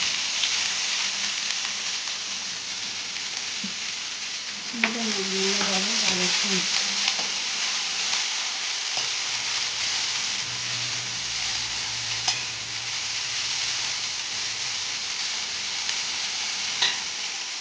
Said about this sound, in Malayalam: കറിവേപ്പിലയാണ് ഈ ഇതിലോട്ട് ചീര വഴറ്റി